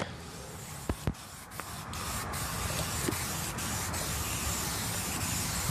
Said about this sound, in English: So basically what I'm doing here is I'm spraying